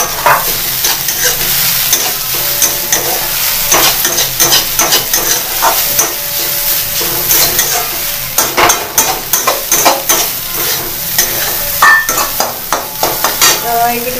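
Flattened rice (chuda) with onion is stirred and fried in a pan, giving a steady sizzle broken by repeated scraping and clinking strokes of a spoon against the pan, close and fairly loud throughout.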